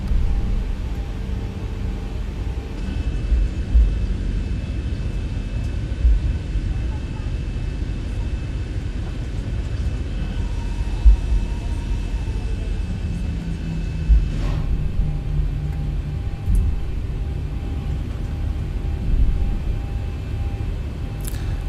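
A Zibo Boeing 737-800 taxiing in X-Plane 12, a steady low engine rumble and hum droning throughout, with someone talking over it.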